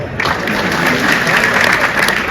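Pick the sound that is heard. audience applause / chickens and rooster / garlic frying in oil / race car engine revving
audience applause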